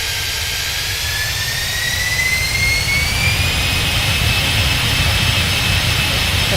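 Boeing 747 jet engines spool up steadily in a flight simulator, a loud continuous roar with a rising whine that climbs in pitch throughout, alone with no talk.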